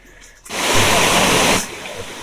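Water from the Taptapani hot spring waterfall in Odisha pours in a loud, dense rush that starts abruptly, holds for about a second, then drops back to a softer background.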